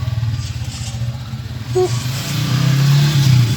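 A motorcycle engine running steadily, then revving up louder toward the end, close by with a low continuous drone.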